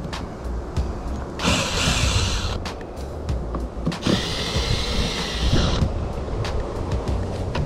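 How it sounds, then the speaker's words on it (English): Two whirring bursts of a powered screwdriver back out screws from a keyless door lock during installation, with small clicks and creaks of the hardware between them, all nearby. "So now it looks like I need to remove these 2 screws here."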